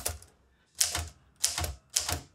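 Manual typewriter keys strike in three distinct close, loud bursts at a steady rhythm, each a sharp clattering clack, with no voices.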